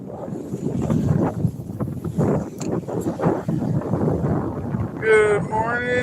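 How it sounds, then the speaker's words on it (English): Strong wind buffeting a fishing boat on the water, a loud gusty rush that swells and fades across the whole stretch, with a brief tonal whine near the end. "It's crazy windy"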